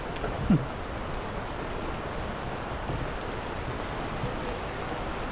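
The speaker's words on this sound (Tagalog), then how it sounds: "Ulan-ulan." Steady rain falls in a continuous soft hiss, even and unbroken, with a brief faint sound near the start.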